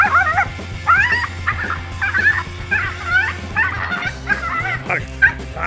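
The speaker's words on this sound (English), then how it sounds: "A tiny dog quickly regretted messing with a tegu lizard when it suddenly had enough of its annoying barking" Small dog barking and yipping repeatedly at a tegu lizard, sharp rapid yaps in quick bursts over a low steady hum, fairly close and loud.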